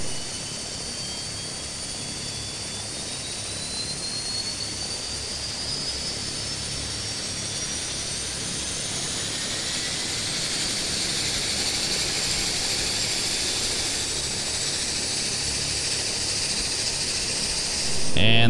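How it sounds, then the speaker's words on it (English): Engine number one of a commercial turboprop airliner starting up, a loud rising whine that climbs steadily in pitch over a constant roar, heard close and sustained without speech. "All right, let's start engine number one,"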